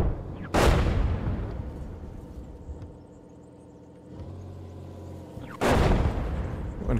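Artillery fire in the Gunner HEAT PC tank game: two loud, sharp blasts land about five seconds apart, each with a long rumbling tail, over a steady low engine drone.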